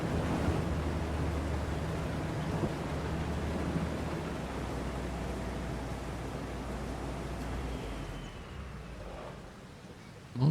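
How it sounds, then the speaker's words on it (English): Steady rain shower washes over fields in Farming Simulator, an even broadband hiss that holds for about eight seconds before fading toward quieter noise, with no voices. "We'll just have to wait and see how long this shower lasts."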